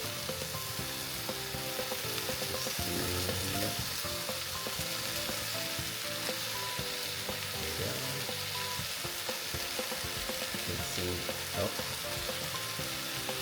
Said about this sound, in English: So I'm gonna flip this pretty soon. So we'll just flip it.